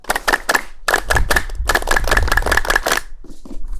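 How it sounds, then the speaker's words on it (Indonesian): Scout group clapping chant (tepuk pramuka) led at a high school scout gathering in Takengon: loud, tight rhythmic claps in patterned bursts with brief pauses, ending in scattered voices. "Oke semua, tepuk pramuka."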